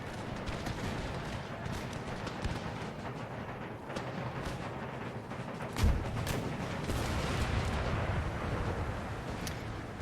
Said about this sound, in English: I should start my artillery